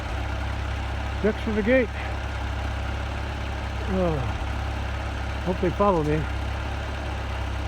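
A tractor engine idles steadily at a farm gate during hay feeding for cattle, a constant low rumble running underneath, while someone talks in short bursts over it.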